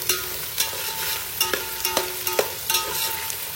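Onion, carrot and beans fry in oil with a steady broadband sizzle, punctuated by regular sharp clinks and scrapes of a spoon stirring the pan, close and moderately loud with no voices.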